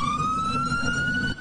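An ambulance siren wails steadily during an emergency response on a hot North Texas day, a loud, close rising tone over the low rumble of the vehicle's engine.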